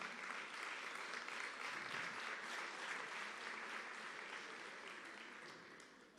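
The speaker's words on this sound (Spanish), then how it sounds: "Recibamos con un aplauso a David" A church congregation applauds, a soft, fairly distant rush of clapping that holds steady, then tapers to near silence before a sudden loud knock at the very end.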